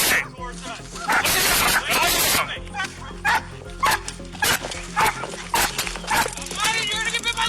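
A police K9 dog barks and yips repeatedly at an arrest scene, loud, close and in uneven bursts, while officers shout commands over and between the barks.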